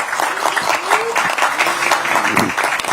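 Crowd applause at a Democratic Party political campaign rally in Korea, dense and steady throughout with a faint whistle-like tone mixed in, fairly loud and close.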